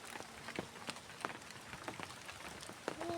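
Steady rain falls on a surface outdoors, a continuous soft patter with scattered louder drips, fairly faint throughout.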